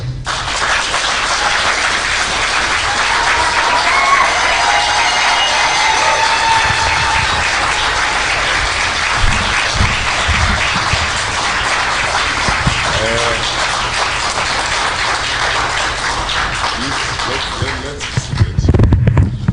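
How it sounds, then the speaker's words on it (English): An audience at a Kenyan diaspora gathering in the USA gives sustained, loud applause welcoming former Cabinet Secretary Fred Matiang'i. The steady wash of clapping runs throughout, with a few louder claps and voices near the end. "I'm going to take this moment to ask you to give a hard applause"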